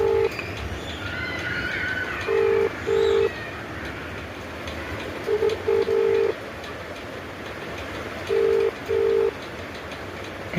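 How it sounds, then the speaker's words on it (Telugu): Phone ringback tone on a call, short paired beeps repeating in a regular rhythm with pauses between them, heard over a low background hum. "రింగ్ అవుతుంది."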